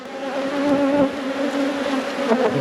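A dense, steady drone of honeybees buzzing at a large hive opened during an inspection, heard up close and loud with an even hum and no voices.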